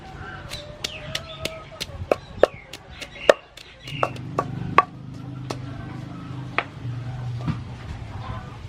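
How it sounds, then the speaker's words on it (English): Chili is pounded for chili sauce, sharp rhythmic knocks of a pestle in a mortar repeating steadily about twice a second, close and loud, with a faint low background hum. "now I start to prepare chili sauce by pounding chili first"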